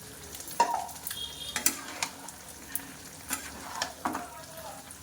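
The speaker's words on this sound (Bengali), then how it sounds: "হলুদ জিরের গুঁড়ো আর গোলমরিচের পাউডার মিশিয়ে দিলাম" Turmeric, cumin and pepper powder stirred into meat frying in a pan for a home-cooked Sunday meat curry, with steady sizzling and several sharp scraping clicks of a spoon against the pan.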